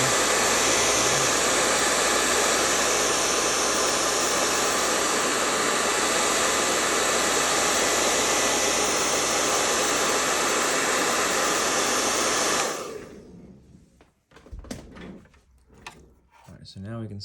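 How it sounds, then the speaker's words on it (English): Airbrush spraying paint onto a 1:200 scale model battleship deck, a steady loud hiss of air and paint lasting about twelve seconds, then stopping, followed by quiet handling clicks and knocks. "so now I'll hit this with the airbrush."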